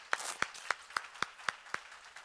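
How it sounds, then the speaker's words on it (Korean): A church congregation claps together in a steady, even rhythm, about nine sharp claps spaced evenly over two seconds with no voices over them. "박수로 하자."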